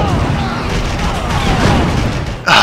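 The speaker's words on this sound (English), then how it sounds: "this cannon's awesome" Tank cannon fire in the video game Red Faction 2, a dense loud barrage of booming blasts and gunfire-like crashes throughout, with a sharp bright burst right at the end and voices mixed in.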